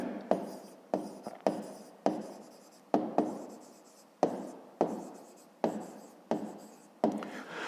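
Pen writing by hand on paper while working a fifth-grade maths exercise, a run of close, rhythmic scratchy strokes with short pauses between words, each burst starting sharply and fading, with no talking.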